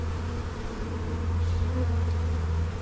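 Honey bees drone steadily and loudly close by while a hive is opened on a sunny day, a continuous low buzz holding throughout with no talking.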